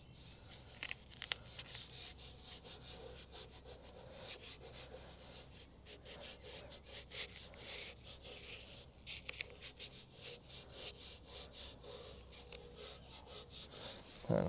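A tractor part is rubbed down by hand during restoration, producing rapid, repeated scratchy strokes heard close up, with no talking.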